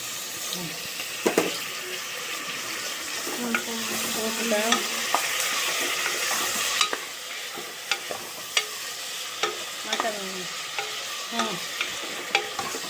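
Tomatoes and spices sautéing for veg biryani make a close, steady sizzle, broken by repeated scrapes and taps of a spoon stirring the pan, with brief faint voice in the background.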